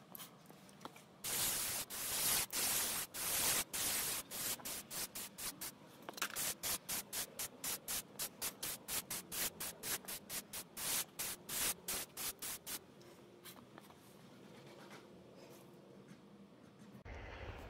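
An aerosol can spray paints a BMW E31 wing panel in a series of short rhythmic hissing bursts, fairly faint, clustered mid-clip with brief gaps between passes.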